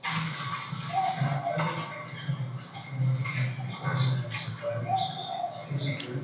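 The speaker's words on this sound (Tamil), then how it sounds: "பறவைகளுடைய சத்தம் கேட்குது பாருங்க." Several birds call and coo at a moderate distance, repeated short notes over a soft outdoor background, with faint voices now and then.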